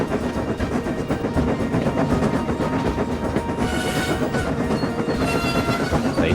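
A train runs fast along the line with a continuous loud rumble and rhythmic clatter of wheels on the rails, no voices over it.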